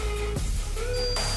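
Handheld stud finder passing over a wooden wall stud during a bodyboard shelf build, emitting a steady tone that cuts off, then a rising higher beep as it reaches the stud's far edge, close over a steady hum.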